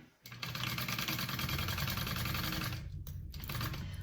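A sewing machine stitches a bucket bag seam in a fast, steady mechanical whir, close and continuous, with a brief pause near the end before it resumes.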